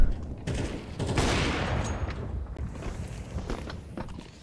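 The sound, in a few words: gunfire in the video game Counter-Strike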